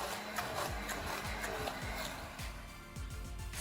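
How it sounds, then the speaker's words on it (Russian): An immersion blender whirs steadily while mixing cottage cheese with sour cream into a smooth mass, giving a continuous motor drone with a rhythmic chugging pulse from the blade working through the thick dairy. "Смешиваем творог со сметаной погружным миксером до получения однородной массы."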